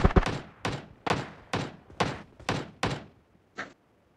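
Seven evenly spaced heavy gunshots ring out in PUBG Mobile, each a loud sharp report with a short tail, followed by one fainter shot after a brief pause.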